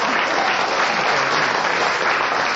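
Studio audience applause at a radio panel game recording, a steady dense wash of many hands clapping throughout, fairly loud and continuous with no talk over it.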